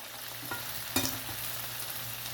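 Masala chicken fries in a pan with a low, steady sizzle, and a sharper clatter and hiss come at about one second as the pieces are flipped. No one speaks.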